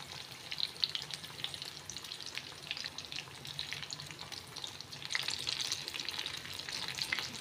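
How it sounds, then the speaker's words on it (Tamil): Beef pieces frying in oil over a medium flame, a steady dense crackling sizzle with bursts of spattering throughout, close and alone. "மீடியம் ஃப்ளேமில் வச்சு பொரிச்சு எடுத்துக்கலாம்"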